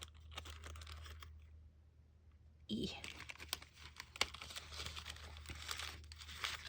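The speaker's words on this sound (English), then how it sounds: "I'm gonna tear this off of our page" A piece is torn off a journal page in a quiet room. After a hush comes a short papery rip, followed by faint crinkling and handling noises.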